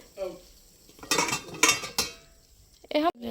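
Metal spoon scraping and clanking against a kadai while broiler chicken fries, a few loud bursts of stirring between quieter stretches with a faint sizzle.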